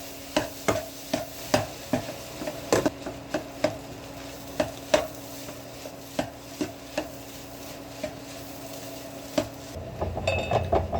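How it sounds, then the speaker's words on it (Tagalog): A utensil stirs spiced food frying in a pan, making a steady run of sharp metallic clinks and scrapes roughly twice a second, close and clear, with a faint sizzle underneath and no talking. "Pagkatapos hinalo-halo ko na para kumalat yung mga pampalasa hanggang sa maluto."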